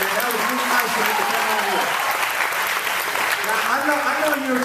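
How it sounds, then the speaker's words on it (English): An audience applauds backstage at a live event, a dense sustained clapping throughout with someone talking over it. "y'all can clap for that"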